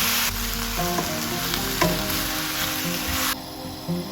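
Calamari stir-fried with noodles and green onions for yakisoba sizzles steadily and loudly in a close pan, with the clatter of stirring utensils breaking through the hiss.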